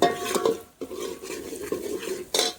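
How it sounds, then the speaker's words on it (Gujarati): Turmeric is stirred into a fish curry in a pan, with a close, steady scraping of a spoon against the pan and a few metallic knocks, no voices. "હળદર નાખીને હલાવવાનું."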